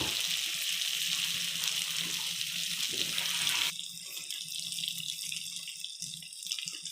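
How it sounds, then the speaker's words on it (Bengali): Water splashes steadily from a stream into a chicken curry made with local chicken, a continuous gushing pour that cuts off partway and leaves a quieter, sparser trickle and faint clatter. "এখন জলটা দিয়ে দিব"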